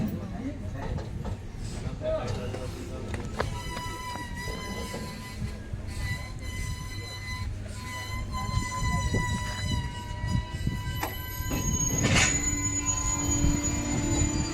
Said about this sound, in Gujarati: 8:36 આપણી ટ્રેન રાજુલા જંકશન ઉપર પહોંચી છે